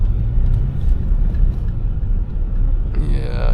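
Car pulling away after the handbrake is released, a close low engine rumble that holds steady and then rises slightly as it moves off.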